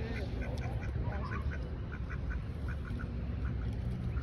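Ducks being fed breadcrumbs quack repeatedly in short, scattered calls, fairly close, over a steady outdoor background hum.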